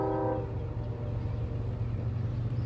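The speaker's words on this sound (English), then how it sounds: "The train is going over Lakewood Road right now and passing through the intermediates at Black Horse." The CSX I-136 freight train rolls past at Black Horse, its horn sounding a sustained chord at the start before fading into a heavy, continuous rumble of wheels and cars.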